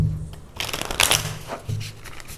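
Tarot cards being shuffled up close, a couple of quick riffling bursts and soft card slaps in a brief run, with a faint murmur underneath.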